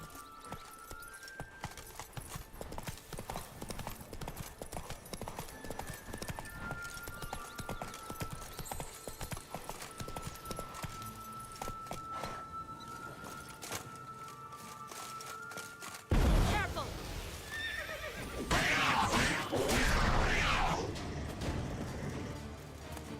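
Horse hooves clip-clop steadily at a gallop in The Witcher 3: Wild Hunt – Blood and Wine, joined later by a loud, close whinny and rushing movement that swells over the final seconds.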